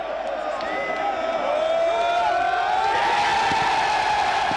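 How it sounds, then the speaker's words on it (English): Stadium home crowd cheering a rugby trophy presentation after Leinster's win over Glasgow Warriors, a broad sustained roar with whoops rising in intensity, distant and continuous with no talk. "an ecstatic home crowd hailed their heroes once more"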